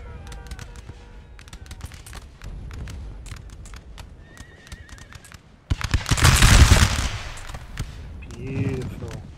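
Massed musket volleys in Napoleon Total War crack out in a loud rolling burst midway, preceded by scattered pops, clip-clopping hooves and a whinnying horse.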